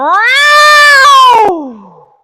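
A single loud cat meow, close by and drawn out, rising and then falling in pitch before trailing off into silence.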